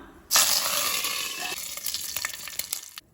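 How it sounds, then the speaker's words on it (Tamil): Mustard seeds and curry leaves hit hot oil with a sudden loud sizzle, then settle into steady frying with scattered sharp pops and crackles close by. "கடுகு நல்லா பொரிஞ்சிருச்சு. கொஞ்சமாக கருவேப்பிலை போட்டுக்கலாம்."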